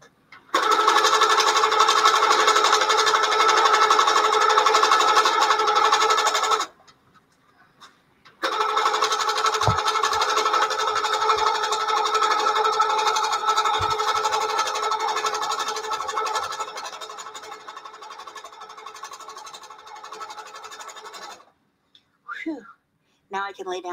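A sewing machine stitches quilted feather designs in loud, steady bursts of rapid mechanical whirring, with a short pause after the first run and a few brief clicks at the end.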